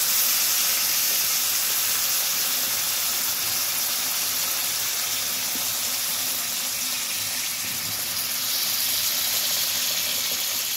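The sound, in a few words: pouring hot water into fish curry pot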